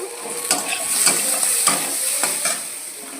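Peas frying and being stirred with cumin in a pan, a steady close sizzle broken by several sharp scraping stirs of the spoon against the pan.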